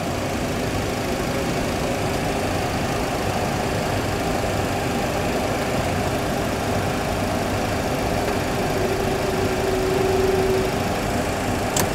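A light training aircraft engine roars steadily at takeoff power from inside the cockpit, a dense continuous drone that stays loud and even throughout with a faint tone rising slightly near the end.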